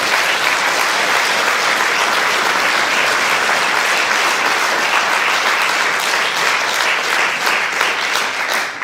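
Warm, sustained applause for the presidents of a cultural society at its 20th anniversary evening in Ravne na Koroškem, a dense, even wash of clapping from a large hall audience lasting several seconds.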